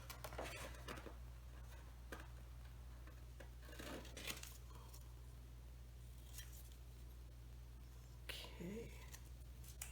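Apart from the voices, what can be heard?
scissors cutting paper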